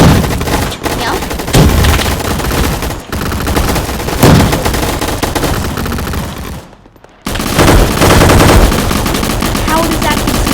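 Rapid bursts of automatic gunfire from a video game gun fight arena, loud and nearly continuous, with a short pause near the end before the shooting resumes.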